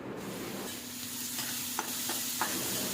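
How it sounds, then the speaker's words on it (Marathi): Two to three spoons of oil heat in a kadhai for tempering, giving a steady close sizzle with a few sharp utensil clicks near the end; no one speaks. "आता कढईमध्ये 2 ते 3 चमचे तेल घेतलेलं आहे"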